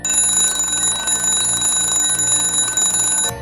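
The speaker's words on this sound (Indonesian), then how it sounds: "Aryo bangun dengan suara alarm yang bagi manusia normal sangat menyakiti telinga" An alarm clock rings loud and steady with a piercing electronic tone, sounding continuously for about three seconds before cutting off abruptly, with no voices.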